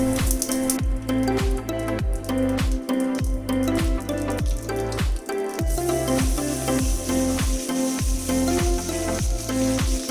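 Curry leaves hitting hot oil with spluttering mustard seeds for a South Indian prawn masala, a bright, continuous crackling sizzle under a repeating rhythmic musical backing, with no talking.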